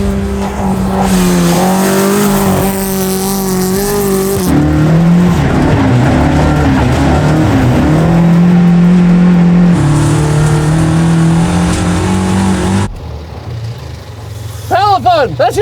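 A 1980 Toyota Corolla rally car engine revs hard and accelerates at close range on a gravel stage with tire noise, while a person talks over it throughout.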